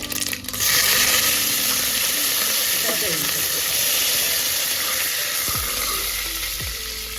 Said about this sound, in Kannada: ಈಗ ಎಣ್ಣೆ ಕಾದಿದೆ ಇದರಲ್ಲಿ ಸಾಸಿವೆನ ಹಾಕ್ಕೊಳ್ತಿದ್ದೀನಿ ಸಾಸಿವೆ ಚಟ್ಪಟ ಅಂಟು